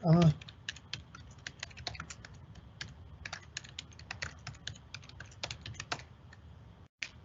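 Typing on a computer keyboard while entering a parent note into a school attendance system, with a steady run of crisp, quick keystrokes in irregular bursts over a low room hum, close and moderately loud, and no talking.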